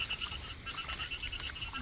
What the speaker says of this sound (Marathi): बेडूक